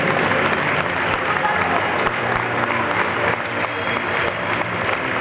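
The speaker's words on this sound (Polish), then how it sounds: "oklaski wzmożone dla tej drużyny" Sustained applause from a crowd at a youth football tournament closing ceremony for a team of 2014-born players, steady dense clapping filling the whole stretch.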